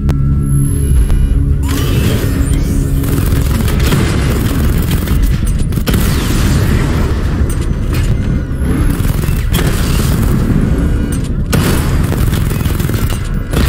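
Batmobile weapon fire in the Batman: Arkham Knight game, a loud, dense barrage of booming shots and blasts running continuously, with a synthetic voice speaking over parts of it.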